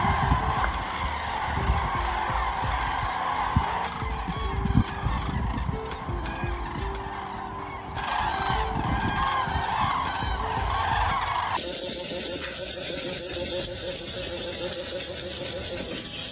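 A huge flock of birds fills a blue sky on a sunny day, giving a dense, continuous wash of honking and calling that stays steady throughout and shifts in tone near the end.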